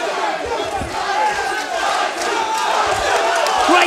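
Crowd at a kickboxing fight, a dense, loud roar of cheering and shouting that swells and holds throughout, with scattered voices within it.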